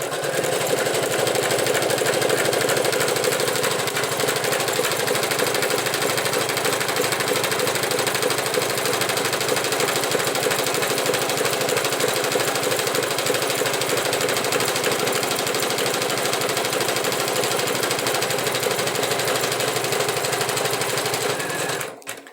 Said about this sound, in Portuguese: Agora foi passado uma costura para segurar os dois tecidos.